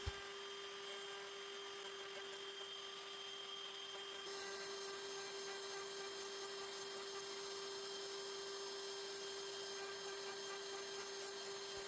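A router fitted with a 1/8 inch roundover bit rounds the tops of small wooden rings held on a piece of closet rod, a steady high whine with a constant tone and a grinding edge when the bit cuts, continuous and close.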